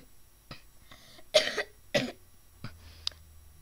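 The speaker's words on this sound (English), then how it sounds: "got a bad cough." A person coughs in several separate bursts, close and fairly loud, with a throat-clearing sound, in a quiet room and with no speech.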